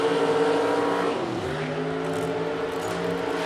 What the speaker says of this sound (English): So we just saw Adam DeYoung in a white Camaro go down the right lane